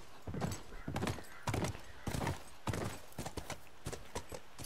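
Steady clip-clop of horse hooves in the video game The Last of Us, a quick, even rhythm of close hoof strikes on hard ground, moderately loud and with no talk over it.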